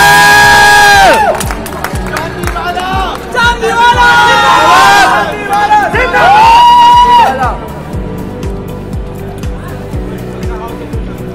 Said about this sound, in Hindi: भाई हूटिंग के साथ क्लैपिंग भी होती है।